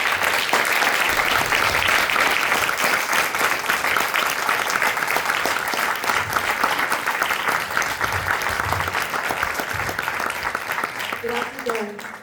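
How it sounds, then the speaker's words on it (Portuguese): A warm round of applause from an audience at a book launch, dense steady clapping that carries for about twelve seconds before thinning out as a voice begins at the end. "Eu gostaria de pedir a vocês uma calorosa salva de palmas"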